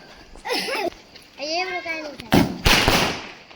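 Excited young voices at Diwali, then a couple of sharp, loud mirchi bomb firecracker bangs burst out close by near the end.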